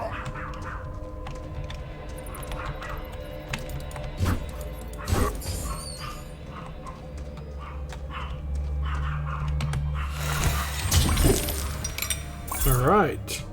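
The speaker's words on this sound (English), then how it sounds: "My dogs are barking in the background." Several dogs bark sporadically in the background of a room while a person talks and video game sounds play. The barks come as a few short, scattered bursts, partly masked.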